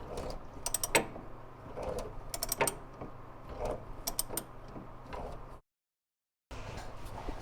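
Repeated ratcheting clicks and metallic turning while a rag joint bolt is backed out of a C3 Corvette steering coupler, in short close bursts with a brief silent gap near the end.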